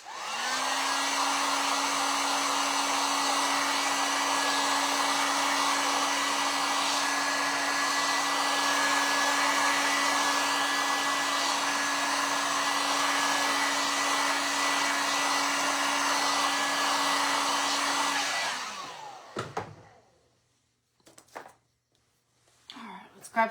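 A hair dryer blows on freshly painted tins during a craft makeover, a loud, steady close whine that runs for most of the stretch before clicking off, followed by a few faint handling knocks.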